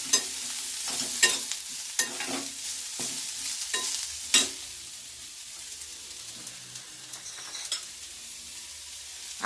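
Tandulja greens frying in a pan over low gas, a soft continuous sizzle broken by several sharp scraping stirs in the first half, then quieter steady frying.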